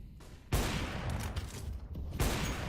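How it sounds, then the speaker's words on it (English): Gunfire from AWP sniper rifles in a Counter-Strike professional match, with two sharp loud shots opening and closing a short burst of noisy in-game action. "Random AWP shots coming out"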